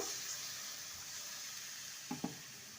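Spinach and mixed vegetables sizzle steadily in a pan with a soft, even frying hiss, and a couple of brief splashy bursts come near the end as water is added.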